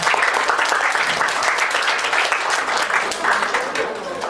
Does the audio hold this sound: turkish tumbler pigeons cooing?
no